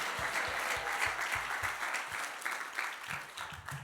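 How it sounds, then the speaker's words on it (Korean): A church congregation breaks into steady applause at a revival service, a full, even wash of clapping that fades slightly toward the end. "우리 그렇게 하실 주님께 감사와 영광의 박수 올려드립시다"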